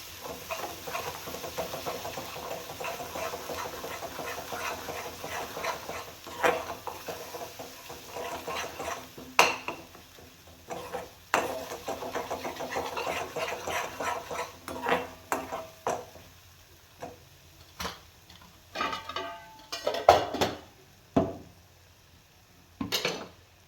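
Home-cooked masala of black spice mix and bedgi chili powder sautéed in oil for a bombil curry, with scraping and stirring in a pan and clinks of a utensil against metal, moderately close over a low background hum.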